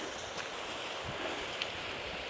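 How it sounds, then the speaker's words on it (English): A small mountain stream flows through a Lake District valley, heard as a faint, continuous broadband rush with some wind and no talk. "We're just following this little stream up the valley."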